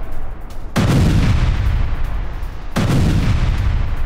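Two heavy artillery blasts from a strike on a Russian military convoy in Zaporizhzhia, each a sudden loud boom followed by a long rumbling decay, roughly two seconds apart.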